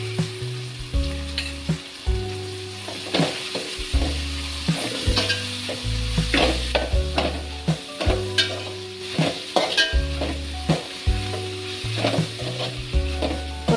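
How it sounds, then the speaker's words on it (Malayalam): Ivy gourd stir-fry with curry leaves sizzles steadily in a pan as it is stirred, with repeated scraping strokes and a metallic clink now and then, close and alone with no talking. "കറിവേപ്പില ഇട്ട് ഒന്നും കൂടെ ഒന്ന് ഇളക്കി കൊടുക്കാം."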